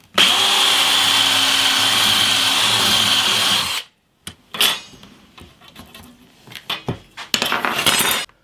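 A power drill countersinks the fixing holes on a bass guitar body, a steady high whine for almost four seconds that stops abruptly, followed by scattered light clinks and knocks of tools and parts being handled.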